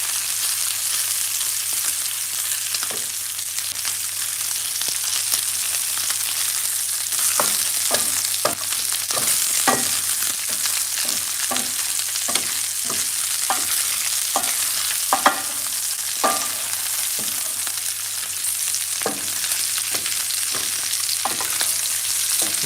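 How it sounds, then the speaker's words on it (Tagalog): Longganisa sausage frying in a pan with a steady, bright sizzle throughout, broken by repeated clinks and scrapes as a utensil stirs and turns the pieces, close and continuous. "Nahalo-halo ko para at least mas ma-fry na siya both sides."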